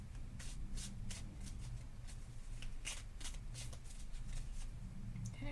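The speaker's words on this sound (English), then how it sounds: "Sorry for the extra shuffling" Tarot cards are shuffled by hand in a quiet room, a run of quick riffling bursts and soft card slaps repeating close and crisp over several seconds, with no talking.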